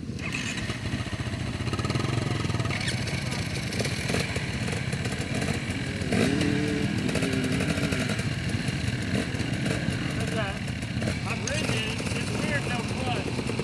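An ALTA Redshift electric dirt bike rides a sprint enduro at Brunes Mill, its steady motor whine and drivetrain clatter loud and continuous with wind rush, with voices talking over it.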